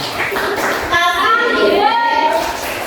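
Children in a classroom clap together in a short burst, with young voices chanting and talking over the hands.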